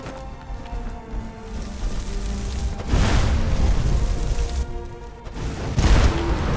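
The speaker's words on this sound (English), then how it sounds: "Nice explosion." A loud, deep explosion rumbles through The Elder Scrolls V: Skyrim, with broadband bursts of boom and debris noise rising over a steady ambient bed, with no talking.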